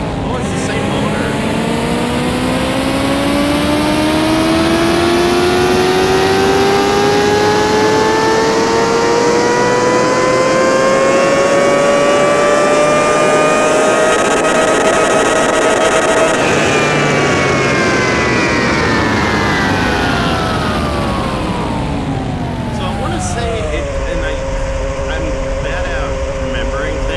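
Pagani engine in Car Mechanic Simulator 21, an 800-horsepower car revving on a dyno: a loud, sustained drone that climbs steadily in pitch for about sixteen seconds, eases back down, then settles into a lower steady run near the end.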